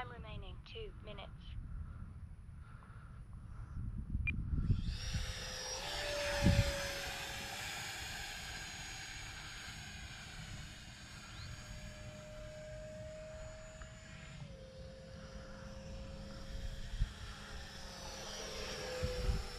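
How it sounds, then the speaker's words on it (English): A T-33 jet aircraft in a flight video game, its engine whine holding a steady high tone across the whole stretch with a low rumble underneath and occasional clicks, with no voices. "what a sweet flying little jet"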